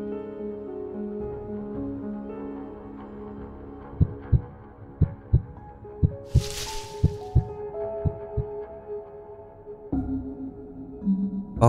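Slow, steady heartbeat thuds in the Paper Lily video game, about a dozen evenly spaced pulses over a droning ambient hum, with a brief hiss in the middle and no one talking.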